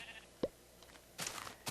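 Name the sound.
brown sheep bleating in Minecraft video game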